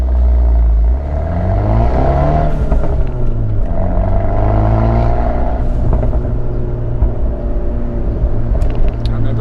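A big-turbo Fiat 124 Spider Abarth drives along with its engine loud and close, rising and falling through revs with a deep rumble and sweeping tones as it accelerates and shifts.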